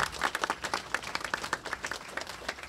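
Applause from an audience at a hospital event in New York, a brisk, uneven patter of many hands clapping close by for just under three seconds, with no voices over it.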